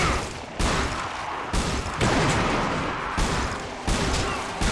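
Magnum revolver fire in Resistance 2: five loud, punchy shots at irregular intervals, each a sharp crack with a booming tail that fades before the next.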